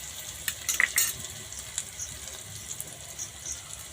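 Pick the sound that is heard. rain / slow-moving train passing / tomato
tomato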